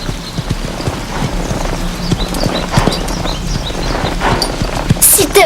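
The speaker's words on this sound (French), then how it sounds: "Lisa, tu ne dois pas laisser ton cheval faire ça." Horse hooves clip-clopping in a steady walking rhythm, close and distinct, with a faint whinny-like cry near the end and voices speaking intermittently over the hoofbeats.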